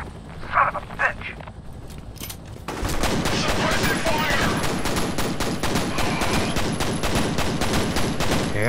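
Sustained gunfire from the first-person shooter F.E.A.R. erupts after a quieter stretch with a few sharp shots, then rapid bursts of automatic fire continue loud and dense, with someone shouting over the shooting.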